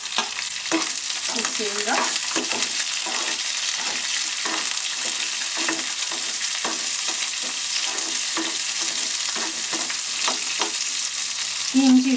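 Onions frying and being stirred in a pan with curry leaves for a wheat masala dosa filling, a steady sizzle throughout with repeated scraping stirs and no talk.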